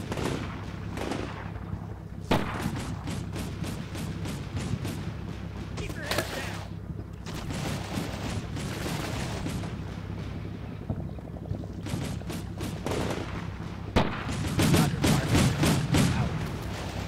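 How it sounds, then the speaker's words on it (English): Sniper rifle shots crack out now and then during a military training exercise in a video game, sharp distant reports spaced over a steady background rumble and wind, with a few clustered shots near the end. "We got a little sniper duel going on here."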